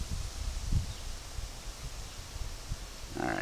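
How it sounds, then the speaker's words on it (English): Wind gusts buffet a camera microphone outdoors, a steady low rumble with a couple of stronger bursts, then a brighter rush of noise near the end. "As you can see, the wind picked up."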